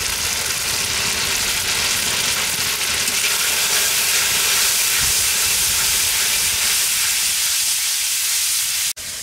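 Ground cumin, black pepper and coriander powder frying in a pan for a fish curry, a loud, steady, close hissing sizzle that runs unbroken until a sharp knock near the end.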